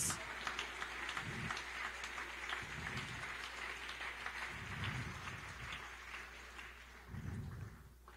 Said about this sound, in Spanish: Dale un aplauso a la gloria de Dios